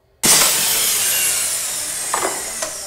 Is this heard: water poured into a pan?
no